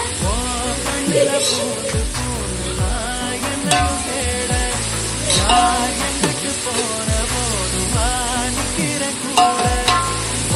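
Onions fry in hot oil for Vaniyambadi chicken biryani and are stirred now and then, a loud, continuous sizzle broken by repeated scraping strokes of the spoon against the pan.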